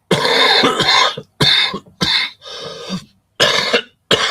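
A person coughs close to the microphone, a series of harsh, loud coughs in uneven bursts with brief pauses between.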